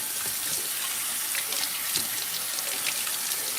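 Water runs and splashes steadily while an old container holding stale mung water is rinsed out, a continuous close hiss of tap flow with small spattering bursts.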